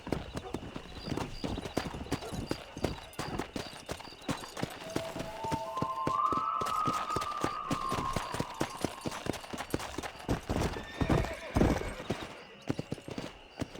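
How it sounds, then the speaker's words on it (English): Horse hooves clip-clop in a steady galloping rhythm in the Red Dead Redemption video game, with a whinny in the middle and a rider's voice and game sounds over the continuous hoofbeats. "All right, I'll show you how we ride round these parts. Giddy up!"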